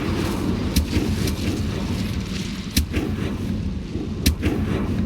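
A fire spell cast in the Hogwarts Legacy video game gives sharp whooshing bursts at about 0.8, 2.8 and 4.3 seconds over a steady low rumbling game ambience, with no talking.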